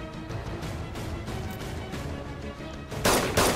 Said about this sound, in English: Oh, I heard the shot.